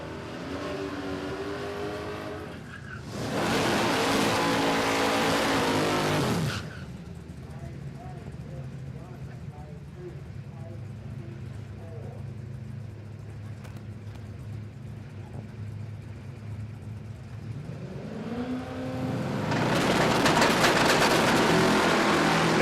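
Drag race car at Palmyra Raceway roaring hard under full acceleration, loud bursts of engine noise that fade between passes while a commentator talks throughout.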